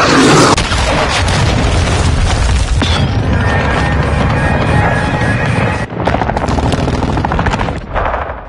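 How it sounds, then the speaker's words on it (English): A cruise missile strike explodes in Modern Warfare, a loud sustained blast of booming, crackling detonation with a second burst partway through, with no talk. "Hostile cruise missile incoming"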